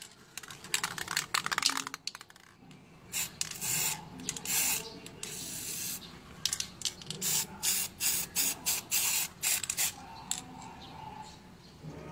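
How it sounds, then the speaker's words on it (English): A spray can sprays paint in repeated short hisses while spraying a work-in-progress piece indoors, with bursts of varying length and faint background noise from a neighbour's television. "For this one, I just spray for fun."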